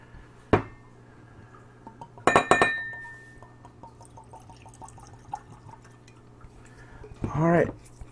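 Teremana tequila is poured into tasting glasses with sharp glass clinks at the start and midway, faint dripping and trickling between them, and a louder pouring burst near the end, heard up close in a quiet room.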